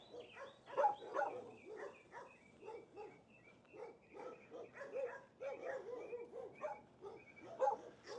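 A friendly rescue dog barks and yips in close, eager bursts throughout, with a few whimpering notes between the louder barks.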